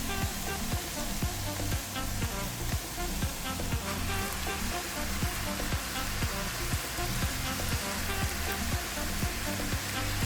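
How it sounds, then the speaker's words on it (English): Ribeye steak added to a pan of reduced vegetables sizzles and fries loudly, a dense continuous crackle with steady stirring clatter throughout. "With our veggies nicely reduced, we're going to go ahead and add our meat."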